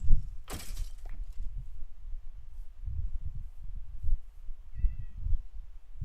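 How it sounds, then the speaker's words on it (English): Cat meows in the Minecraft video game, a short high burst near the start followed by a couple of fainter calls, over low background rumble with no talking. "More cats. Lovely."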